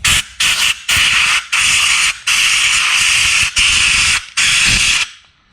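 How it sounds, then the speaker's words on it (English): An air hose blows dirt away from the spark plug area on a KTM 450 RFS motorcycle engine, giving loud hissing blasts in about eight short, close bursts separated by brief pauses. "you definitely want to take an air hose if you have one"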